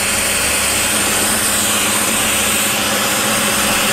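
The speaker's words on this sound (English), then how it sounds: "then very carefully drill it all the way" A power drill bores a hole into a knife handle, its motor running as a steady, loud, high-pitched whine without pause, with no talking over it.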